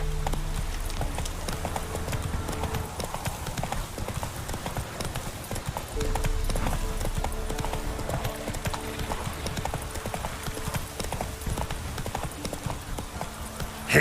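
Geralt's horse Roach in The Witcher trots along with a steady, rhythmic clip-clop of hooves close by, mixed with game ambience and a faint whinny.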